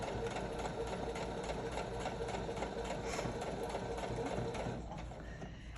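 A sewing machine fitted with an adjustable zipper foot stitches in a fast, steady, close-up mechanical rhythm, running continuously and easing off slightly near the end, with no talking.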